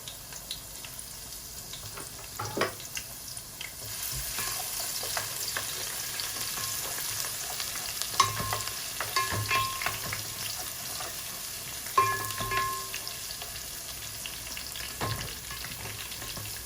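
Green chilies and garlic sizzle in hot oil for a tempering, a steady close hiss with a few sharper spits and crackles as the ingredients hit the pan, no voices.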